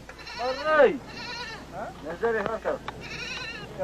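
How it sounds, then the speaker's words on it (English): A goat bleating before slaughter, several loud, wavering calls in quick succession, close by, with voices mixed in among the bleats. "When the goat we had been carrying with us was brought out for the kill"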